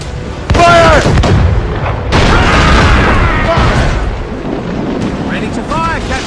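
Ship cannons fire in a naval battle in Assassin's Creed Rogue, heavy booming blasts that roll into a sustained thundering roar, loud and near, with a second big volley partway through and a shouted voice briefly audible.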